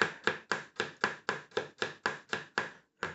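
A knife chops garlic steadily on a cutting board, about a dozen crisp, evenly spaced strikes in a quick rhythm, close by and alone.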